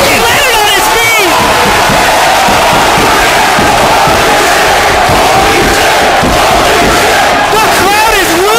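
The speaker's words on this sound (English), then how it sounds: "The crowd is losing their minds." A wrestling crowd at a Smash Wrestling match roars and cheers wildly after a wrestler lands on his feet, with loud sustained whoops and yells filling the arena throughout.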